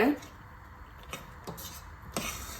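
A spoon scrapes and knocks against a heavy-bottomed pan while thick cashew batter is stirred over a low to medium flame, giving a few soft, close taps spaced through a quiet stretch.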